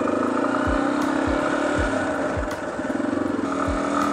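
A Yamaha XT250 dual-sport motorcycle idles steadily, then its single-cylinder engine thumps in an even rhythm as it pulls away in first gear, close by and fairly loud throughout.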